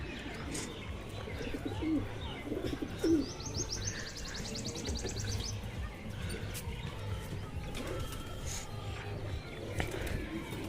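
Soft pigeon coos repeat close by amid rustling and light fluttering as pigeons enter a rooftop coop, with a brief burst of higher chirping and faint voices in the background.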